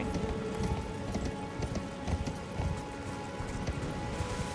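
Horse hooves gallop in rapid, rhythmic clip-clop beats in the video game Elden Ring, moderately loud over a steady ambient bed.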